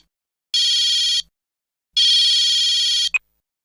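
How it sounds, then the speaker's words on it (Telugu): A telephone rings indoors in a home, two loud close bursts of bright electronic trilling, each about a second long with a pause between, then a short final chirp and silence. "అదిగో ఇదో ఫోన్ అవుతుంది"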